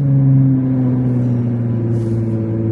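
A Ferrari 296 GTB, 830 hp, rumbles loudly in manual mode on a downshift, a deep steady engine drone that holds close and constant with only a slight lift.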